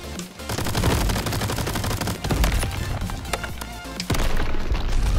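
Rapid, dense gunfire in the video game Crab Champions, continuous rattling shots with heavy thumps and impacts layered over busy game effects, loud and close throughout.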